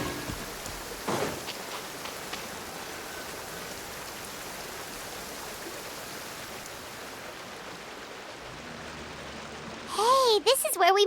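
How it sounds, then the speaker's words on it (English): Heavy rain in a video game, a steady hiss of downpour holding evenly throughout, with a brief louder burst near the start and game sounds rising at the end. "This heavy rain must be quite an inconvenience for you."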